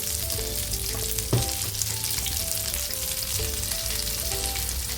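Spoonfuls of onion and egg batter frying in a pan, a steady bright sizzle throughout with a brief clink of a utensil near the start.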